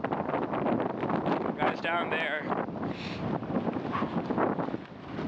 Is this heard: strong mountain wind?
yes